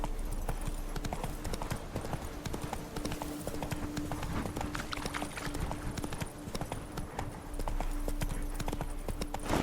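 Roach, a horse in The Witcher 3: Blood and Wine, gallops with steady rapid clip-clop hoofbeats throughout, close and loud, with a brief voice calling out over the hooves.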